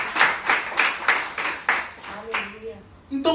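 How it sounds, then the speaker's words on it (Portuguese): A church congregation claps in quick, even rhythm, about ten strong claps from many hands that fade out before a short vocal sound at the end. "Quer aplaudir? Aplauda ao Senhor."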